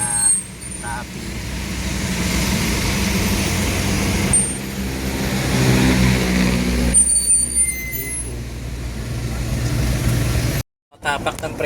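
A truck's air brake fires amid road traffic, a loud pneumatic hiss over steady engine and roadway rumble. Several vehicles sound close by, with a brief dropout near the end.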